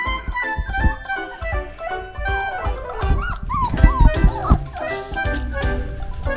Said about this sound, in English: What is Rooster barking at?